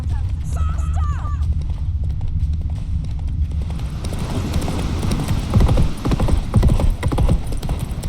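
In The Witcher 3 video game, the horse Roach gallops in a rapid, continuous clip-clop of hooves, close and steady throughout, with brief game dialogue and a short whinny-like cry early on.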